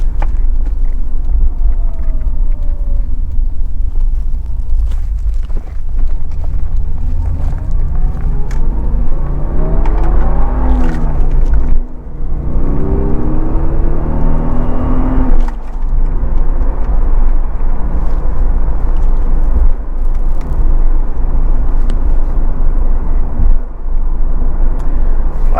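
A heavy 1990 Toyota Supra Turbo, a Mark III with 230 horsepower and a five-speed, accelerates hard in third gear. Loud in-cabin engine drone and road rumble carry rising engine tones that climb through the pull and then settle.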